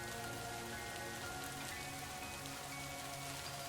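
Steady rain falls at night and drums on surfaces as an even, continuous wash of dense patter, fairly quiet and unbroken for the whole stretch, with no voices.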